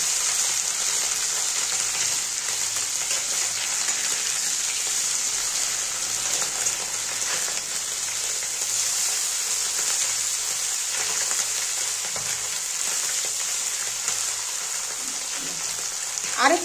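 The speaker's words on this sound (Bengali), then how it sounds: "একবারে মাছগুলো দিয়ে দিচ্ছি ভাজার জন্য" Small fish frying in hot oil for a Bengali curry with potato and eggplant, a steady dense sizzle and crackle that runs unbroken from start to finish, close and fairly loud.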